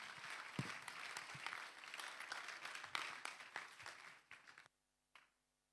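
Audience applause at a motivational seminar, a steady patter of many hands that is fairly faint and distant, thinning and fading out in its last second, with no speech.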